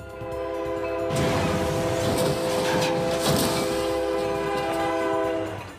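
A freight train in a crash test hitting a passenger car sounds a long, steady horn blast over rumbling rail noise, and a harsh, noisy surge swells partway through.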